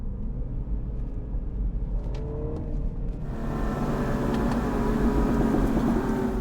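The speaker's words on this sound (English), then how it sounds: "we got some burble when you're on second gear and you blip the throttle a little bit" A Mini Cooper S F56 in second gear rumbles steadily from inside the cabin, then swells into a louder, rougher exhaust note as the throttle is blipped, with a low burbling growl.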